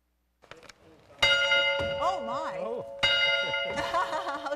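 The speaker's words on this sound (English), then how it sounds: "Where did the bell come from? That come from the Stirling Fire Department." An old fire department bell from Stirling rings loudly and nearby, with sustained metallic clangs struck twice in a row and a long ringing decay. Faint voices and bumps come just before the first strike.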